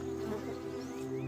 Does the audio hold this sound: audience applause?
no